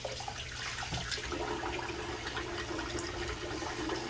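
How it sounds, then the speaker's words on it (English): Tap water running steadily while hands are rinsed during a wet shave, a continuous close splashing stream with no talk. "wet the hands and rinse off"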